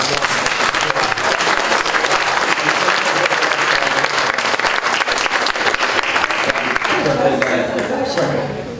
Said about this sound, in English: let's give our Brazilian community a round of applause.